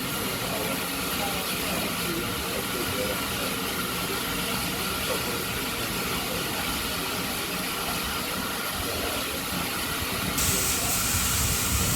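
Steam locomotive 4555 Warrior of the Paignton Dartmouth Steam Railway at Paignton Queen's Park Station on a windy day, giving off a continuous loud, even hiss of steam with wind noise and no talk.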